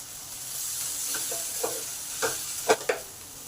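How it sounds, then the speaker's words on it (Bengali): Potatoes and long beans fry in a pan while being stirred, a steady low sizzle broken by several scraping spoon strokes that grow sharper and louder toward the end. "আলু বরবটি 2 মিনিট ভালো করে নেড়ে ফ্রাই করে দিলাম"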